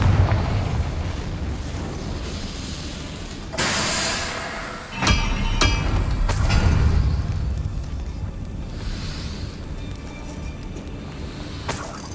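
Confringo blasting spell explosions in the Hogwarts Legacy video game, with several heavy booming bursts and rumbling blasts over a continuous low roar, loud and close, with no speech.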